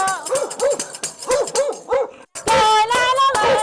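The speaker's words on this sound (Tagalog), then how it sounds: "Madilim at maraming aso sa village na ito." Dogs bark repeatedly in a dark village at night, a run of sharp close barks, then a louder sustained yelping howl after a brief gap.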